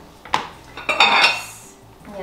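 Ceramic pasta plates clink and clatter as they are handled and set down, a few sharp knocks followed by a longer rattling scrape of dishes against each other, close by with no talk.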